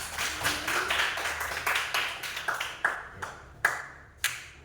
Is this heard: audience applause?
yes